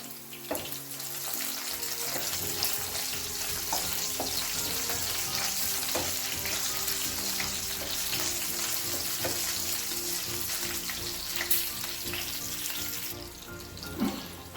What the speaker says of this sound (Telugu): అలా కట్ చేసుకొని వేసుకుంటే పేలకుండా ఫ్రై అవుతాయి అన్నమాట